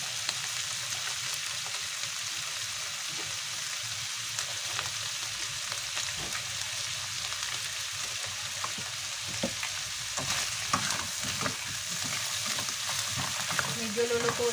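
Chicken pieces fry in a pan for creamy Cajun pasta, making a continuous crackling sizzle with occasional clinks and stirring noises and no talking.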